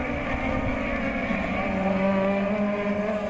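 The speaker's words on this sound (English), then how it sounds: "The 800-metre drag race all the way down to the first right-hand corner." Race cars in a JK Tyre Racing Championship 2013 round accelerating off the start toward the first right-hand corner, a loud, steady blend of several engines droning and rising in pitch together without pause.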